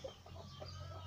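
Hens cluck softly inside a backyard henhouse, a few short low calls over a steady background hum, fairly faint and with no one talking.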